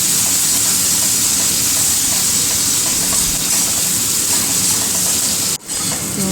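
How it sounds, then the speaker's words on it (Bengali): Chopped onions sizzling in hot oil in a home kitchen while making a light potato and chicken curry, a loud, steady, close frying hiss that runs throughout with only a momentary dip near the end. "কুচিয়ে রাখা পেঁয়াজটা ভালোভাবে লাল লাল করে ভেজে নিতে হবে"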